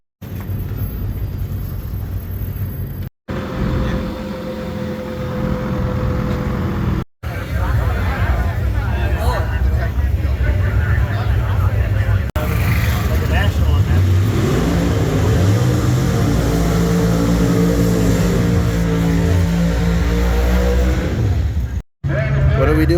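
A car engine idling in gear after an axle bearing repair, a steady low rumble that runs throughout beneath people talking nearby.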